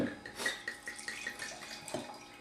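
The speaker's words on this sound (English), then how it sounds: "Oh, that was a big pour." Wine is poured generously into a glass as a soft, steady trickle and splash, faint and close, with light clinks of glassware.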